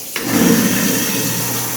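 A kitchen garbage disposal whirs with water running through it, a loud, steady grinding rush that starts abruptly and holds close by without talk.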